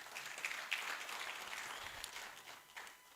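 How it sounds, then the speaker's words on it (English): A conference audience claps for a speaker, a fairly soft, somewhat distant patter of applause with a few sharper individual claps standing out. "Let's clap for him once again."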